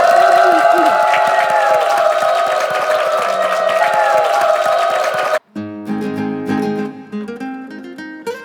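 A studio audience at a KBS broadcast claps and cheers loudly for a trot singer, a dense sustained roar that suddenly stops as her accompanying music starts.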